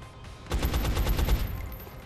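A loud burst of rapid gunfire from the video game XCOM, a quick rattling volley of about eight shots lasting under a second after a quiet lead-in, then fading.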